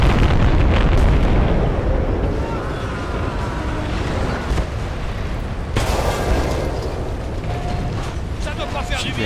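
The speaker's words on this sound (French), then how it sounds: "Quelle belle explosion!" A loud, rumbling explosion in Battlefield: Bad Company 2 with booming low end and crackling debris, followed by a second burst, while people talk over it.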